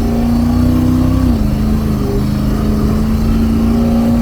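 A vintage cab-over fire truck engine revs loudly and steadily close by, its pitch rising briefly and then settling back to a sustained drone with no talking.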